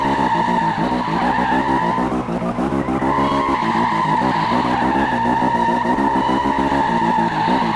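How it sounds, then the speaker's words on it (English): A car drifts with tyres skidding in a Need for Speed 2015 prototype build of the racing video game: a loud, sustained tyre squeal over a droning engine, steady and unbroken for several seconds. "if you brake, it starts doing an impossible drift"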